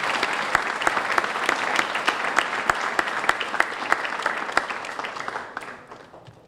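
A graduation ceremony audience applauds with sustained clapping, loud and even, with a few sharp claps standing out before it gradually tapers off near the end.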